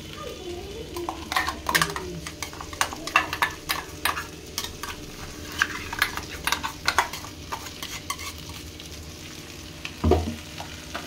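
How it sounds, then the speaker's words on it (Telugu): Goat mutton pieces coated in masala are stirred in a pan, giving a continuous sizzle with frequent clattering scrapes and knocks of a spoon on the pan, close and busy, with a louder knock near the end. "వేసుకున్నాక బాగా కలుపుకోవాలండి. ముక్కలకి బాగా మసాలా పట్టే విధంగా కలుపుకొనేసి టేస్ట్ చూసుకోవాలి."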